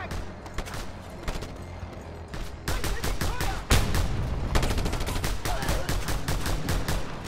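Pistol fire in a video game: a steady series of sharp shots, first sparse and then in a faster, louder volley of rapid cracks close by.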